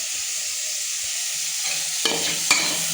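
Food sautéing in a pan with a steady sizzle of hot oil, joined near the end by a couple of stirring scrapes from a spoon.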